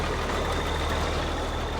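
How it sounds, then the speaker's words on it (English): A farm tractor engine runs steadily during late-season haying, a broad continuous rumble with a low droning hum, fairly loud and close, with no talk over it. "that tractor sounds"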